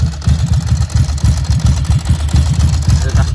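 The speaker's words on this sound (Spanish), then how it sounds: "El cascabeleo del embrague." A Ducati Monster 900 with MIVV exhausts idles nearby, its dry clutch rattling over a steady, loud, loping exhaust thump that pulses unevenly throughout.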